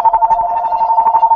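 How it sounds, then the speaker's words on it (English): A telephone rings at home with a warbling electronic tone, repeating in quick pulses, loud and close, heard on its own. "the phone's ringing"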